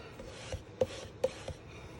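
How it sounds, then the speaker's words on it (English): Bone folder burnishing the score lines of a folded card, a few faint short rubbing strokes heard close up in a quiet room. "I'm gonna take my bone folder and we're gonna burnish."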